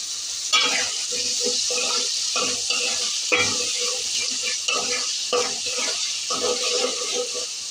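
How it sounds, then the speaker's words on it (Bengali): Turmeric, chili powder and salt being sautéed in a pan while cooking kolmi greens with dried fish, steady frying sizzle with repeated scraping strokes of a stirring spoon at a regular rhythm, close and moderately loud. "এখন হলুদের গুঁড়া মরিচের গুঁড়া লবণ এগুলো দিয়ে ভালো করে কষাবো।"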